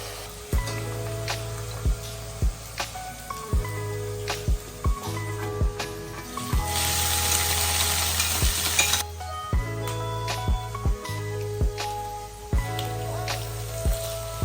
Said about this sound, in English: Fry them one by one, separately.